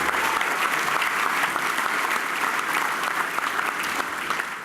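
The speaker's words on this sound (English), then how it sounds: "Give her a big round of applause" Steady, dense applause from a dinner audience at an awards evening, loud and sustained throughout, fading slightly at the end.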